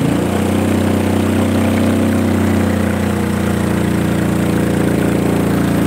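A Honda Supra motorcycle engine running in place with the clutch engaged and a worn clutch lining. It makes a loud, close, steady idling rumble that shifts tone partway through, with no talk.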